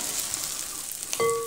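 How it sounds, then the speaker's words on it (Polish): An oat flake omelette with raisins frying in a pan, a steady soft sizzle throughout with a brief clink near the end, no voices. "No i smażymy go teraz z drugiej strony."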